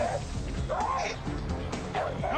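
Dogs barking and yipping in a played clip about pit bulls, several short barks scattered through a noisy, busy background with some voices mixed in.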